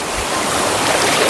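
Forest river water gurgles and rushes in a steady, close, unbroken flow, with no one talking over it.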